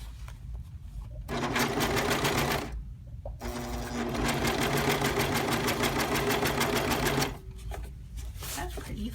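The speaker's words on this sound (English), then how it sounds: "now I'm going to sew around the top of this pillowcase I'm making" A sewing machine stitches around the top of a doll pillowcase in two loud, fast, steady runs with a short pause between, close by, with quiet room sound before and after.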